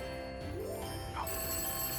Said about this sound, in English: Hey, my phone is ringing.